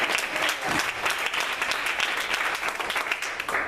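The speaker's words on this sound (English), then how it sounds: "Clap your hand and give God praise." A church congregation applauds for a pastor being named bishop, dense sustained clapping from a crowd throughout, fairly loud with faint voices mixed in.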